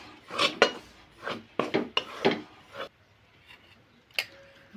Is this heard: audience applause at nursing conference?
no